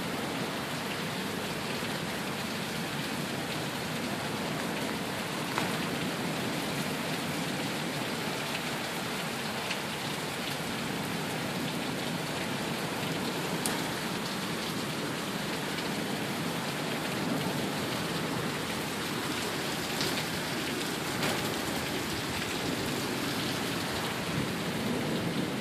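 A heavy summer downpour in Sioux Falls hammers steadily and loudly on surfaces for the full stretch, a dense unbroken roar with low thunder rumbling underneath.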